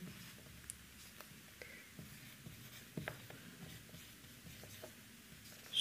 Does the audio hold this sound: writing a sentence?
yes